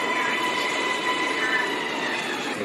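A Bangkok MRT Blue Line metro train runs between Bang O and Bang Phlat with a strong, continuous rolling roar of wheels on rails, a thin steady whine above it, and a faint squeal from the wheels.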